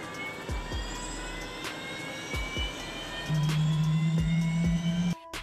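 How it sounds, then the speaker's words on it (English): Boeing Loyal Wingman uncrewed stealth aircraft doing a high-speed taxi test at a remote site in Australia, with a steady jet engine roar, rising whine and tonal hum, recorded from a distance and heard alone. "The uncrewed aircraft has been undergoing low, medium, and high-speed taxi testing at a remote test location in Australia."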